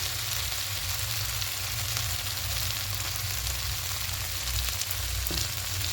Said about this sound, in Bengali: মিনিট দু মিনিট একটু ভালো করে কষিয়ে নেব